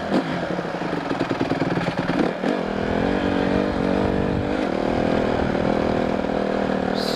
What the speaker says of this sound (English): Man, this bike is loud, I hope y'all can hear me.